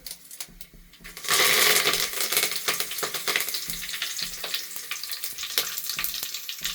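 Oil bursts into a loud, crackling sizzle as cumin and curry leaves hit the pan, then keeps spitting and popping steadily.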